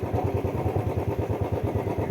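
A motorcycle engine idles close by in a parking area at the Kartarpur corridor, a steady rhythmic low putter that keeps an even pulse without revving.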